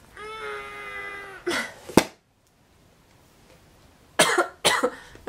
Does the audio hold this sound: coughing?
yes